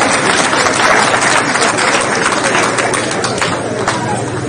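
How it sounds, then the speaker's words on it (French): Audience applause at a community tribute gathering honoring a patriarch: a dense, steady wash of clapping that fills the whole stretch at a loud, even level without letting up. "Applaudissez encore."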